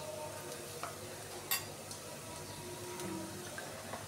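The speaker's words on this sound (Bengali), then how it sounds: "এখন আমি গুঁড়া মশলা দিয়ে দিব।" Powdered spices stirred into onions already fried in hot oil for a thin Bengali bata fish curry; a quiet, steady sizzle with a few soft stirring clicks, no voices.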